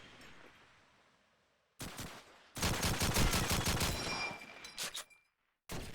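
Rapid bursts of gunfire in a competitive first-person shooter round on the Dawnville map, loud and clustered in several volleys separated by brief silences.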